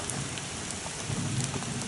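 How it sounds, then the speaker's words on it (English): Heavy thunderstorm rain falling steadily on surfaces outdoors, a dense close hiss with faint low rumbles underneath, brief and without talk. "It's starting to rain, so we better get a move on."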